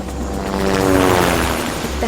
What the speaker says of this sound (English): The helicopter streaked over the lush green canopy of the Zanga-Do-Ki National Park, deep in the Congo Basin.